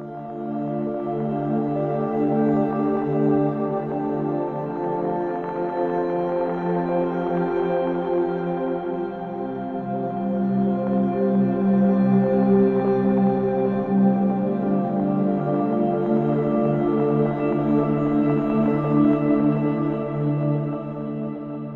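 An Omnisphere lo-fi granular preset called Bits and Bells, with bit crushing, plays as a sustained shimmering synth texture of layered bell-like tones that swell and drift, unbroken and moderately loud, with no voices.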